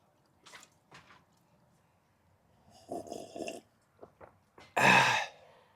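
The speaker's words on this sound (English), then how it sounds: "I am going to pour myself some pine needle tea here." Pine needle tea is poured in a greenhouse, with a few soft drips and trickles leading to a brief louder splashing pour near the end, close and quiet overall.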